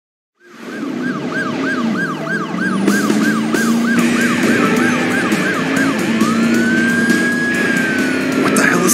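An ambulance siren in the video game Driver San Francisco wails loud and close for several seconds. Its rapid yelp cycles repeatedly, then shifts into a slower rising-and-falling tone over a steady engine drone.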